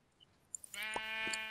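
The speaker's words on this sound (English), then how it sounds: "Oh, poor sheep. The sheep didn't deserve that." A single sheep bleats in the Minecraft video game, a short nasal wavering baa that rises after a couple of faint clicks and holds for under a second, clear and close with no talking.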